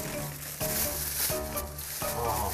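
Korean chive pancake (buchujeon) frying in a pan, a steady close sizzle with light scraping and tonal clatter over about two and a half seconds.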